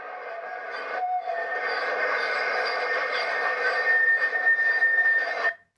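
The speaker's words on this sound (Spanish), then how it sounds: "Este es el ruido típico de un tren o tranvía" A sustained high-pitched metallic screech of train wheels, steady and loud for several seconds with a brief dip early on, then stopping abruptly.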